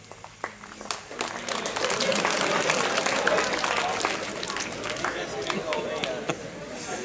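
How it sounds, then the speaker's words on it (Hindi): Lecture audience clapping: scattered claps at first, swelling into sustained applause from a crowd that carries on steadily before thinning slightly. "अब आप तालियां बजाएंगे?"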